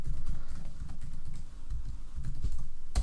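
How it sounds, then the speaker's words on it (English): Password keyed on a computer keyboard during setup of a Steam trading bot, with fairly steady muffled tapping over a low constant hum and no talk. "type out our password"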